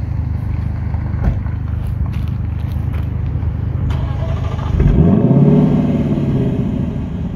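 A Lexus LC500 on a mountain road rumbles with a deep engine drone, then revs up into a rising roar near the end as it accelerates, loud and close without speech.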